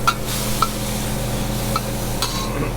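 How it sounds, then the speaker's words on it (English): A spatula scrapes and stirs beef stir-fry with oyster sauce in a hot pan, a steady sizzle underneath with a few sharp metallic scrapes spaced across the moment. "And then we're going to stir it."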